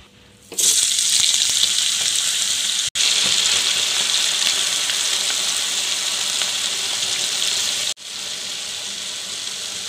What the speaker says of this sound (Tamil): இதே மாதிரி எண்ணெய் நல்லா சூடு வந்த பிறகு ஃப்ரை பண்ணி எடுத்துக்கலாம்